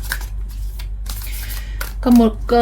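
Akashic oracle cards shuffled by hand during a spiritual card reading, soft riffling and flicking close up, with someone talking over the shuffling throughout.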